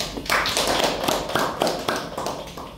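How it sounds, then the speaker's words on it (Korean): Classroom applause in a literature-healing therapist certification course: a brief round of clapping from a small group, close and fairly loud, with uneven, overlapping claps and no talk over it. "박수"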